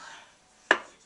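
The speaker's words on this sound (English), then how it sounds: "So I did one pump" A single press on the pump of a Revlon Photo Ready foundation bottle in shade 10 caramel gives one short, sharp click up close against near silence.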